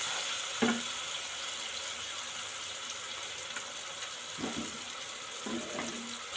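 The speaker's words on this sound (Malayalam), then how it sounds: "അതിന് ശേഷം നാല് പച്ചമുളക് കീറിയത് ഇട്ട് നന്നായി വഴറ്റിയെടുക്കുക" Slit green chilies and ground paste sizzle steadily in a hot pan, a soft continuous frying hiss broken by a few clinks of a spoon stirring against the pan.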